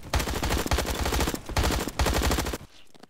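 Rapid automatic gunfire in the Roblox shooter Bad Business, loud and close, in dense continuous bursts with brief gaps before cutting off at the end.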